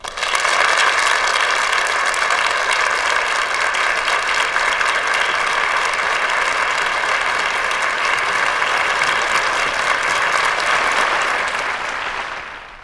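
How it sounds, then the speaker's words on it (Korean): A lecture hall audience applauds a guest lecturer, a dense, steady wash of many hands clapping that holds evenly for about twelve seconds before fading out at the end. "자, 그럼 큰 박수로 강의를 청해 듣죠."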